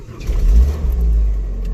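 A car engine starting and revving close by, a deep low rumble that rises, surges and holds a strong idle throughout.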